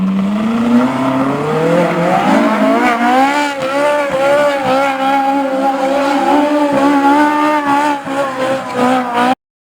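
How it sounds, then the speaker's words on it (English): Ferrari sports car driving past, a loud high revving engine whose pitch rises and holds, with a steady strong engine whine and a few slight tonal shifts throughout. "Ferrari."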